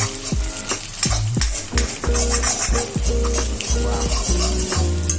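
Cabbage and long beans stir-fried in a karai for egg fried rice at home: a steady loud sizzle under repeated metal spatula scrapes and clinks against the pan, in a quick uneven rhythm.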